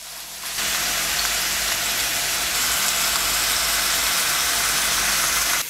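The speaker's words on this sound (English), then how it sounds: "Flip them around. Get each side seared up." Beef sears in an Instant Pot pressure cooker, a loud, dense, steady sizzle that starts abruptly and holds unbroken throughout, close up with no talking.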